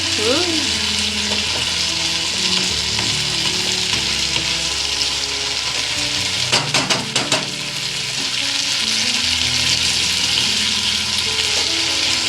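Fenugreek and pea vegetable frying in a pan, a steady close sizzle with stirring scrapes that run the whole way through, plus a brief burst of sharper clinks partway in.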